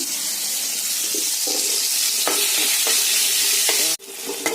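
Onion and soaked Gobindobhog rice fry in a pan with a loud, steady sizzle and several spatula scrapes, ending in a sudden cut as the hiss drops away near the end.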